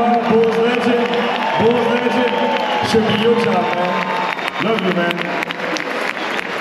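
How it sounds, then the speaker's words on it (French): A crowd at the NBA Paris Game 2023, Chicago Bulls versus Detroit Pistons, applauds and cheers around a player introduction, while someone talks close by over the steady roar. "On peut applaudir Joachim Noah."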